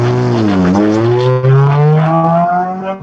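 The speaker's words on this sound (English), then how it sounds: "All we heard was an engine." Loud race car engine at Gingerman Raceway during a ChampCar endurance race, revving up and down through shifting tones close by, with a sharp surge in the middle as it accelerates, heard alone.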